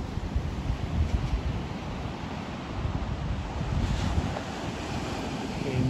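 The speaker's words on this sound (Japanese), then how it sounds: "瀬棚町の三本杉海水浴場です。" Steady surf and wind at Sanbonsugi beach in Setana, Hokkaido: continuous broadband wash of waves with gusty wind buffeting the microphone, no voices.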